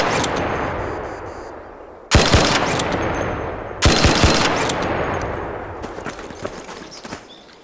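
Gunfire in a video game from a Bettina build fitted with a Compensator 2: two loud, sharp bursts of rapid shots about two seconds apart, then a string of fainter scattered shots over a steady background rumble.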